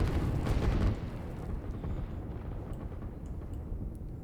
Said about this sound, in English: And there's the rocket.